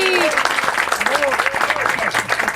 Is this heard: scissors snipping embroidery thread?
no